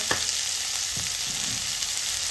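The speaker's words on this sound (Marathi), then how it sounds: "1-2 मिनिटं व्यवस्थित तेलावर परतवायचं आहे आपल्याला हे" Cauliflower florets and green peas sauté in hot oil in a pan, sending up a loud, continuous close sizzle broken by a few soft stirring knocks, with no voices.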